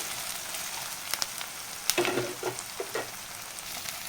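Ginger garlic paste fries in hot oil with a steady, close sizzle and a few scraping stirs of a spoon, and no one speaks.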